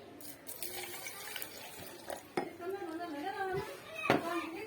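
A glass of water is poured into a blender jar while banana juice is made, a short splashing pour with light clinks of glass against the jar, under a faint murmuring voice.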